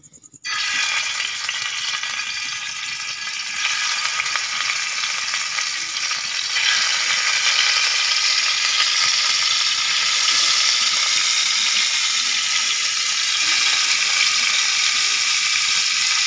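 Fish sizzles steadily in light oil at a village outdoor cooking spot, a dense crackling hiss that starts abruptly and holds loud and close throughout with no voices.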